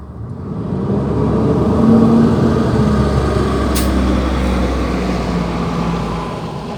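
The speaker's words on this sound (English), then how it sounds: "hold on, let this truck pass." A truck passes on a nearby road with a loud, broad rumble that swells and then slowly fades, carrying one brief high hiss midway.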